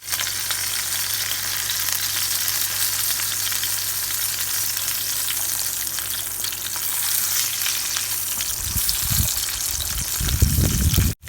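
Steady, crackling sizzle of bananas frying in hot oil, continuous throughout, with a few louder bursts and clatter near the end.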